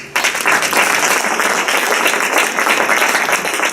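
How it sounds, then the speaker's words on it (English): An art-talk audience applauds two speakers at a gallery event, a dense, loud burst of clapping that starts abruptly and holds steady for several seconds. "join me for a round of applause for our two speakers."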